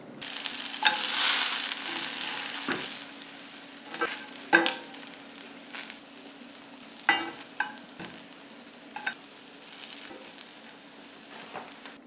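Bread croutons fry on a stovetop with a steady moderate sizzle, broken by intermittent spatula scrapes and clatters against the pan, close up with no talking.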